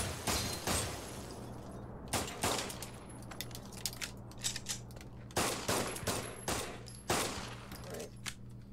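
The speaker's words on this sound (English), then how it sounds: "Let's just shoot it on the grass." Pistol fired on grass in the VR shooter game Pavlov VR, with a series of sharp, loud shots in irregular bursts over a low steady hum.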